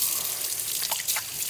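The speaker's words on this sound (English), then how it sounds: "Now I need to go wash my hands" Tap water running steadily while hands are washed in a home kitchen after handling messy dough, a continuous hiss with a few brief splashes and drips near the end.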